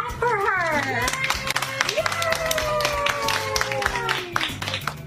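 Kindergarten children clap for a mother, an Army National Guardsman returning from a year-long deployment, in a school classroom. The quick scattered claps mix with children's voices and an adult speaking over them.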